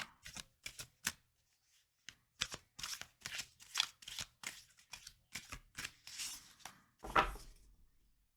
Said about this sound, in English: But I will finish shuffling.